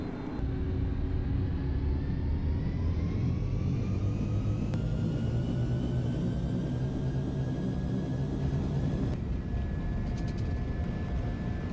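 An American Airlines Airbus A321 jet takes off from a runway, its engines roaring loudly and steadily with a broad low rumble and a rising whine for the whole stretch, no voices over it.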